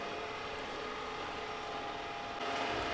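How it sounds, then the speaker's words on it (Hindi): A faint, steady mechanical whir and broadband hum from an Ecovacs Deebot N30 robot vacuum running continuously at low volume, with no talking. "और ये आप सुन सकते हो कि इसने वैक्यूमिंग वाला प्रोसेस स्टार्ट कर दिया है।"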